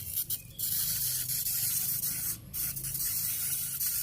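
A pressure sprayer misting plants hisses in long, steady bursts, close by, broken by a couple of brief pauses, with no speech.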